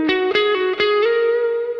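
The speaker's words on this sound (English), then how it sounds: "natural reverb, let's say a large plate." Plucked guitar notes through a Kemper Profiler ring out in a quick sequence, each trailing into a broad, lingering large-plate reverb wash.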